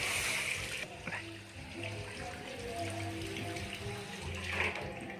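Tap water runs into a sink or bowl in a kitchen for soaking ingredients, a faint steady splash that briefly cuts out and resumes.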